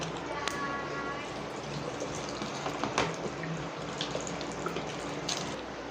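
Water pours into a cooking pot while a Malabar-style lunch is made, a steady broadband splash and trickle running throughout at moderate level, with a few clinks and soft voices in the background.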